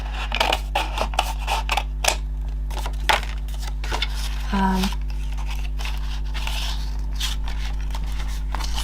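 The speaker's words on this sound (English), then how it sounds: "what I'm going to do is cut a weird shape off of that" Scissors snip through paper in a run of short, crisp cuts with rustling in between, close and fairly quiet over a low steady hum, with a brief tonal noise midway.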